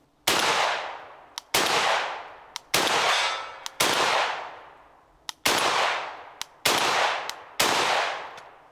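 A Benelli M4 semi-automatic shotgun fires slugs and buckshot outdoors in a durability test, seven loud booming shots at roughly one-second intervals, each with a sharp crack and a long rolling echo, spent shells clinking between shots.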